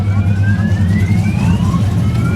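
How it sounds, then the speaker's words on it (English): Several car alarms sound at an outdoor swap meet and car show, their wailing tones sliding upward and overlapping loudly over a steady low rumble. "I got like 5 car alarms going off behind me."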